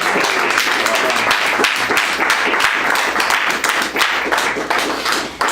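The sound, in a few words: audience applause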